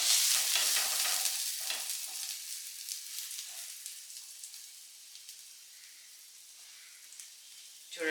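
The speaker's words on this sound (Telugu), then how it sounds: "చూడండి, ఈ విధంగా బ్రౌన్గా ఫ్రై అవ్వాలండి." A bread slice frying brown in a pan for an egg toast breakfast, a steady bright sizzle that is strongest at the start and slowly fades to a softer crackle, with no talking.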